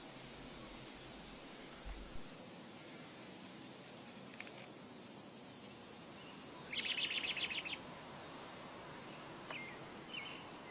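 A short burst of bird chirps from a perched bird in spring rises midway through a quiet, hissy outdoor ambience, with a few faint isolated tweets scattered around it.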